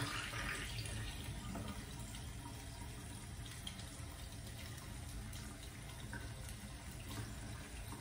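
Hot water runs steadily from a bathroom tap into a sink during a nighttime face-washing skincare routine, a continuous close splashing hiss with no talk.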